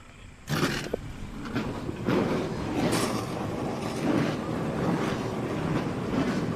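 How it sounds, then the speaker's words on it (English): Loud TA2 race cars' 550-horsepower LS3 V8 engines rumble together after a quiet start at VIR, a dense roaring wall of sound with surging revs, no voices. "the sweet sound of the 550 horsepower producing LS3 power plants underneath the hood of the TA2 cars"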